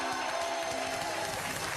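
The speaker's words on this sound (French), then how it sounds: "vous applaudissez quand même Noam en même temps" A studio audience at a French game show keeps up a steady wash of clapping, dense and even from start to finish.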